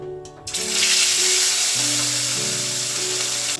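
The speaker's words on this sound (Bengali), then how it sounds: "তো এবার আমি কিন্তু মাছগুলো একে একে দিয়ে দেবো" Fish pieces slid one by one into very hot oil, setting off a loud, dense, continuous sizzle close up after a couple of brief knocks, with a faint background tone and no talk.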